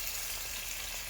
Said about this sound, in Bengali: এবার এক বাটি জল দেবো।